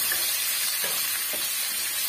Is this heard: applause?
no